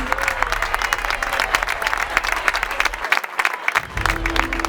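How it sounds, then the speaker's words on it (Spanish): A crowd at a trophy ceremony for a regional championship in Benavites, Valencia, applauds steadily with dense, sustained clapping throughout, fairly close and loud. "un aplauso bien fuerte para la mujer colombaira"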